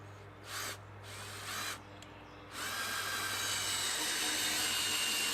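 A power drill drives 3.5 inch exterior screws, countersinking them into wood: two short whirring bursts, then a longer sustained run that grows loud and close, with no voices.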